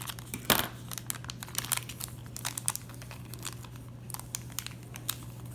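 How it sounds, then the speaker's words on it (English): Plastic packaging for a National Geographic rock tumbler being torn at by hand: one sharp ripping crackle followed by scattered light crinkles and small tearing snaps, close and fairly quiet. "Maybe there's a way you can just rip it open."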